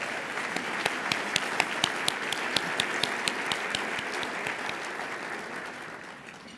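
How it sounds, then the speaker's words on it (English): A crowd claps steadily for an award recipient at a legal aid annual meeting, sustained room-filling applause with crisp individual claps punctuating the first half before it gradually fades. "Let's give them a round of applause as well."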